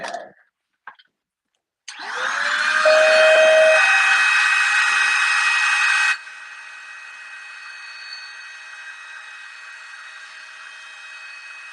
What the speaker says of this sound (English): let's take the vacuum cleaner, get rid of all this.